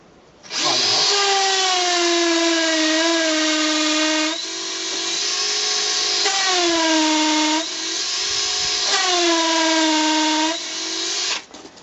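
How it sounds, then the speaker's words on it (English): A power drill with a small masonry bit boring a hole, its motor whining loudly and close in several sustained runs, the pitch sagging under load and recovering between bursts. "Make the hole. Small masonry bit on this one."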